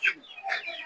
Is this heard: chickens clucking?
yes